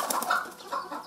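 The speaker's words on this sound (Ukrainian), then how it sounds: "А тепер пішли до наших пташок." Poultry on a farm clucking and calling, a busy cluster of overlapping bird sounds at moderate distance, steady and continuous over about a second, with no talking.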